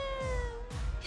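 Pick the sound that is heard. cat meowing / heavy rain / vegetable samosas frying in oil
cat meowing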